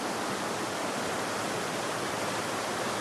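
A river near Boulder Lake campground rushes past in a steady, even wash of flowing water, close and moderately quiet, with no voices.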